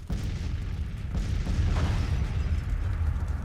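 Civil War artillery guns in Grand Tactician boom out at the opening, then a sustained rumble with further muffled reports rolls on at a middle distance, dense and continuous, without speech.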